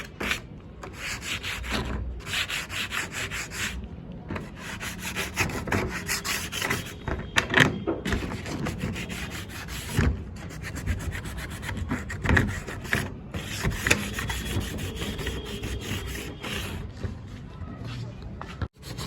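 A hand rubs back and forth to sand synthetic enamel putty on a metal surface, a continuous rhythmic scraping close up, while a voice talks over the work.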